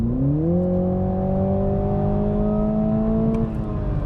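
A 2021 Toyota Supra engine revs up and holds a rising, steady roar, pitch climbing early then sustained, loud and close throughout.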